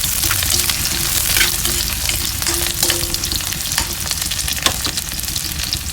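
Garlic sautés loudly in a pan with a dense, continuous sizzle and crackle, close up, as occasional stirring scrapes and clicks cut through the hiss; no one speaks.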